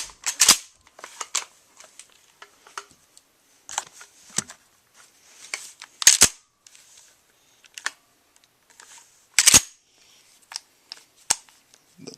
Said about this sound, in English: Dry fire.